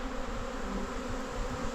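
Honey bees buzzing densely at the hive entrance, a steady, close, continuous drone of many insects with no talking.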